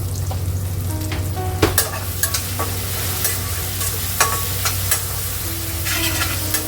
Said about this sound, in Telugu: మంచిగా ఫ్రై చేద్దాం.